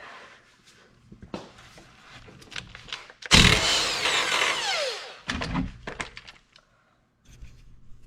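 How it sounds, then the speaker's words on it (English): A loud burst of an impact wrench spinning off a lower shock bolt on a 5th gen Toyota 4Runner lasts about two seconds, then a shorter second hit follows, with quieter clanking tool and shop noise around it. "I'm going to come at it from this side with the impact"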